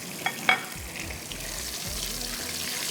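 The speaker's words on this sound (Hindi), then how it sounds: "ऑयल गरम करके सबसे पहले मैंने इसमें ये गरम मसाला, बादियान के फूल हैं 2, दालचीनी है, इलायची है, और लौंग, ज़ीरा डाल के थोड़ा सा फ्राई करें" Whole spices (star anise, cinnamon, cardamom, cloves and cumin) fry in hot oil for pulao, a soft continuous sizzle after two sharp clinks near the start, with faint low rumbling underneath.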